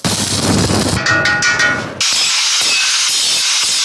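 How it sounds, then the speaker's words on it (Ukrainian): Metalwork in a home yard while stoves are built from gas cylinders: a loud, harsh grinding rasp runs for about two seconds, then stops abruptly, and a steady high hiss follows with a few faint, irregular knocks beneath it. "Болгарка, молоток і зварювальний апарат практично не замовкають."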